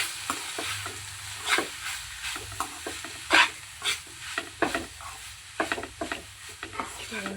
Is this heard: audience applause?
no